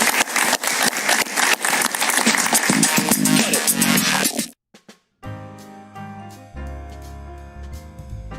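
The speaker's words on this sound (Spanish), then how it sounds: "Un aplauso para él." Studio audience applause on a Spanish-language TV talk show: dense, steady clapping for about four seconds, then a brief silence before music takes over.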